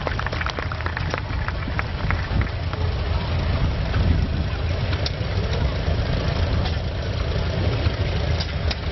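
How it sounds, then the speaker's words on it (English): A 1950 Farmall C tractor engine rolls past in a parade, giving a steady, dense low rumble with a busy outdoor wash of noise layered over it throughout. "Okay, this is Jerry Conersman, driving his 1950 Farmall C"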